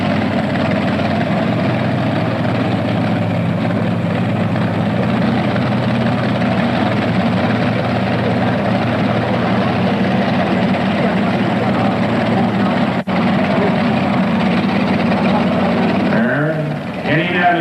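A blown 572 cubic inch engine in a pulling vehicle at a 1985 tractor pull in Meadville, Pennsylvania, holding a loud, steady low drone for most of the stretch before cutting off abruptly near the end.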